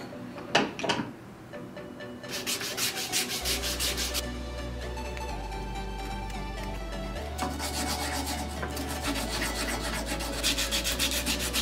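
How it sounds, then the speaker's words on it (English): Rough edges of wooden frame pieces get sanded by hand in quick, close, rhythmic back-and-forth strokes, with a few taps and knocks at the start before the scraping settles into a continuous rasp. "So right now I'm going to go ahead and sand these down really quick because these edges are a little bit rough right now."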